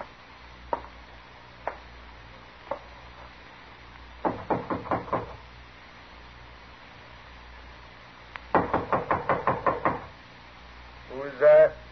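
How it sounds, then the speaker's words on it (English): Knuckles rap on a wooden door in two rapid bursts of about six knocks each, close and crisp, after a few scattered single taps, with a short voice at the end. "knock on the door"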